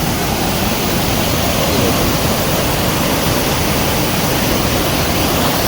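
A monsoon-fed waterfall in Jim Corbett National Park roars loudly and evenly, a dense, unbroken rush of falling water close by with no other sounds.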